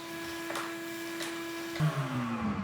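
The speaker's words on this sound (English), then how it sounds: "just got back from purchasing a beast of a shop vac. Hope it works." A newly bought shop vacuum running off-grid at a log cabin homestead build, giving a steady droning motor hum whose pitch drops and shifts with a bump near the end.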